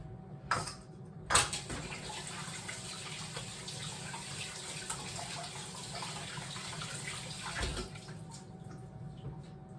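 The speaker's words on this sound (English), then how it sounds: "So I'm just going to get that off the spoon and then wash my hands real quick." Tap water runs steadily into a sink while hands are washed underneath, with a couple of sharp clinks near the start, all in a home kitchen during brownie baking.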